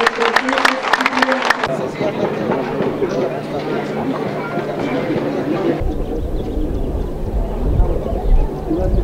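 Applause and crowd noise from residents at an outdoor water system inauguration in Villa de la Paz, Ixmiquilpan, honouring the municipal president, with dense clapping at first, then a mixed crowd murmur and voices.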